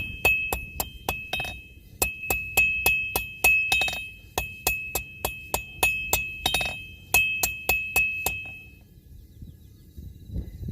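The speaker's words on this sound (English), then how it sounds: "And that's your plenishing blow." Blacksmith hammer delivering plenishing blows on metal, a fast rhythmic series of bright ringing clangs in quick bursts with short pauses, close and loud, ending in quiet.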